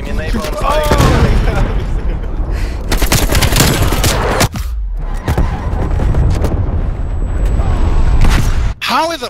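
Call of Duty: Black Ops Cold War match with dense, loud gunfire and a grenade blast, bursts of automatic fire overlapping continuously and close, with a player talking over the din.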